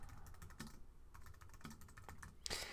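Quick keystrokes on a computer keyboard while typing a post title, a light irregular clatter of several taps, close and quiet with no talking.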